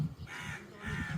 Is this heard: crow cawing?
yes